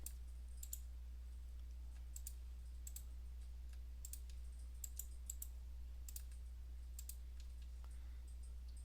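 Computer keyboard typing in short bursts of light clicks, a few keys at a time with gaps, over a steady low electrical hum while entering a short label into trading strategy software.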